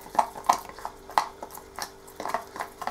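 Spoon stirring a homemade batter-like fishing bait in a bowl, with a rhythmic series of light clinks and scrapes every fraction of a second, close and fairly soft.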